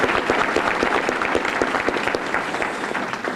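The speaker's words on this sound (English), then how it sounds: "Give them a round of applause." Audience applause at a school academic awards ceremony, a steady wash of many hands clapping together, fairly loud and continuous throughout with no talking over it.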